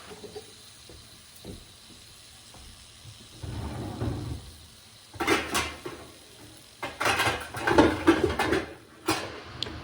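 Zucchini stirred in a covered pan, with chili pepper added, while cooking a frittata: scattered clinks and scrapes of a utensil against the pan, quiet at first, then louder bursts of clattering in the second half.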